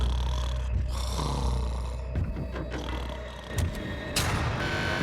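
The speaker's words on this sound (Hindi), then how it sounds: "वो स्टूपिड कॉप सारी रात खर्राटे मारता रहा।" A man snoring through the night in a prison cell, low rough rasping breaths that drag on steadily beneath a noisy room hum, with a few sharper snorts.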